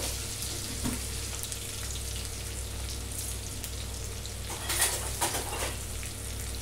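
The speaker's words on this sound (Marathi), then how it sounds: "चांगलं फ्राय करून घेऊया." Cumin, ajwain, turmeric and red chili frying in oil, a faint steady crackling sizzle with a couple of light clinks from a spoon against the pan.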